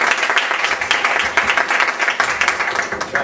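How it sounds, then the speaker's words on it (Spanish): A lecture audience gives a warm round of applause to a speaker at a talk on organizational culture, with close, uneven clapping that holds steady for the few seconds heard. "podem donar-li les gràcies amb un aplaudiment per la seva assistència"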